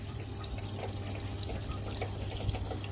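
Water runs steadily inside a washing machine during a wash cycle, a soft continuous trickle and splash with a low hum underneath, heard close and alone without talk.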